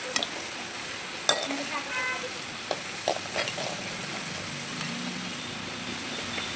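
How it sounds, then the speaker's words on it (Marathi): Potatoes frying in a small amount of oil in a pan, a continuous soft sizzle with a few sharp clinks and scrapes of a utensil, close and steady with no talking. "हे असे बटाटे गट्टूला मी तळून देते"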